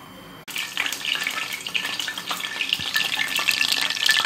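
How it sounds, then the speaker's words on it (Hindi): Chicken kebabs fry in hot cooking oil in a pan. A sudden loud burst of sizzling starts the sound, and a steady, dense crackle continues close by without pause. "तेल हमारा गर्म हो चुका है, इसके अंदर मैंने कबाब को ऐड कर दिया है"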